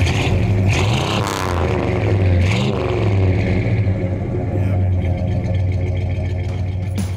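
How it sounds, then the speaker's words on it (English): A 1969 Oldsmobile 442's V8 idles with a heavy, lumpy exhaust rumble close by, its loud, rough note pulsing steadily with small rises in revs. "I gotta hear this thing crank up. I wanna hear that exhaust note."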